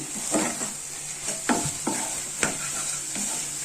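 A spoon scrapes and turns egg podi kura, an egg dish mixed with salt, chilli powder and turmeric, through a sizzling pan in a run of rhythmic strokes. Nobody talks.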